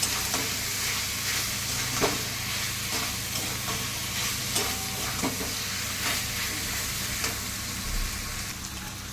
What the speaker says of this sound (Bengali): এইবার আমি এই মাশরুমগুলো এর মধ্যে দিয়ে দেবো। দিয়ে আমি ভালো করে এটা আবার কষাবো।